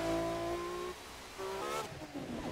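A Ferrari FXX K in The Crew 2 racing game roars at high revs with the pitch sliding downward, then boosts with a rising whine and quick gear shifts, loud and up close.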